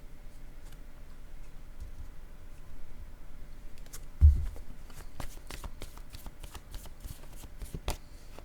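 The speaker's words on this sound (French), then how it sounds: "Je vais demander une carte mot pour cette personne." A deck of cards being shuffled close up, a brief riffle followed by a rapid run of crisp flicking clicks, quiet and alone, during a French card-reading game.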